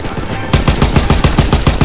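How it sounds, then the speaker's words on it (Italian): Rapid automatic gunfire from the World War II shooter game Call of Duty WW2 rattles loudly and close in an even, fast rhythm after a brief quieter lead-in. "li stanno sparando"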